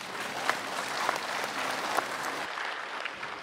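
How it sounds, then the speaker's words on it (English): Steady applause from an audience at a university investiture ceremony following a speech, dense and sustained, with a few sharper claps standing out and the sound thinning near the end. "And the applause does not reflect that which the speech by Chairman of the University Governing Council."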